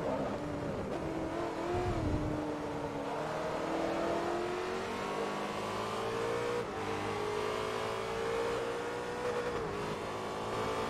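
Racing car engines in Forza Motorsport 3, a Ferrari among them, rev and whine in rising and falling pitches, loud and steady throughout the stretch with no talk over them.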